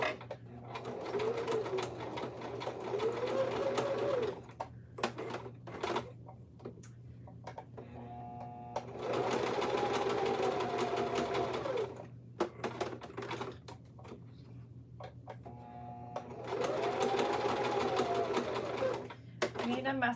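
Domestic sewing machine back stitching a fabric headband, running in three long bursts separated by pauses, with a steady mains-like hum beneath and someone talking during the gaps.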